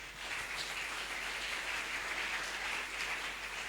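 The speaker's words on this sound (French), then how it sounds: "Nous applaudissons le Seigneur." A church congregation claps together in a sustained, even burst of applause, dense and steady from start to finish with no voices over it.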